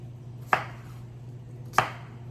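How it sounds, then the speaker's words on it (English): A knife strikes a cutting board twice while cutting potatoes into quarters, each a sharp, close chop about a second apart over a low steady hum. "Okay, so let's get our potatoes. Cut them in quarters."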